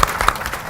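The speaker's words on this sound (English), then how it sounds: "Let's give a round of applause to our panel." An audience applauds a panel at a live media-careers event, giving a brief burst of dense clapping that holds steady throughout.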